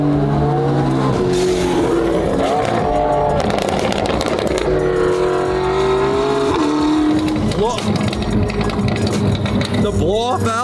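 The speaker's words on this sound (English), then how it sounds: "The blow-off valves on his car sound so good." A carbon McLaren Senna revs hard, its exhaust roaring and rising and falling in pitch, with blow-off valves chattering and hissing between revs. Loud and close throughout, with voices mixed in.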